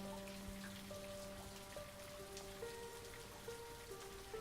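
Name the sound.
rain falling at night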